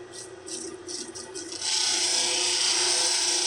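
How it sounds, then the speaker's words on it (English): A 280 grit wheel grinds a carnelian agate cabochon, starting with a few short contacts before settling into a steady, loud, close-up whirring grind. "Now it's time to remove the scratches from this 220 grit wheel with the 280 grit wheel."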